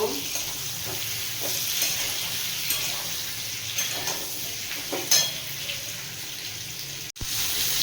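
Pointed gourd (potol) frying in oil in a pan, dusted with Kashmiri chilli powder: a continuous bright sizzle with occasional stirring scrapes and a brief sharp click near the end, no talking.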